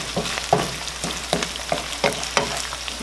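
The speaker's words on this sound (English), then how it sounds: "the beef is finally browning" Ground beef browning in a pan gives a constant close sizzle, broken by repeated scraping stirs and knocks of the utensil at irregular intervals.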